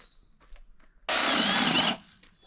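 An impact driver fitted with a modified auger bit bores a ground screw into the soil, a loud, steady whirring grind that starts abruptly and runs for about a second before cutting off, after quieter background sounds.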